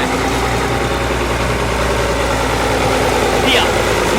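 A vintage FIAT 1000 Super tractor engine idles with a steady low, chugging rumble that sounds close and loud, while people talk over it.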